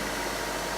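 Car engine idling steadily during a DPF and emissions cleaning service, a close, continuous broadband hum and rumble with no talk.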